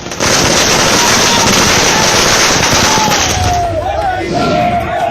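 Fireworks and firecrackers set off by BJP party workers celebrating in Sagar, Madhya Pradesh: a dense, loud, continuous crackle of rapid bangs with crowd noise mixed in, a rising whistle appearing toward the end.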